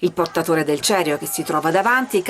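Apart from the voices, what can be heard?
None of the usual background noises is heard.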